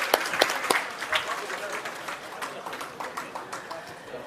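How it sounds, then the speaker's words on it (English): Audience applause at a 2013 Silicon Valley tech conference session, a steady wash of clapping from a crowd that starts strong with sharp individual claps and gradually thins and softens over a few seconds. "let's give another big round of applause to our last panelist and moderator"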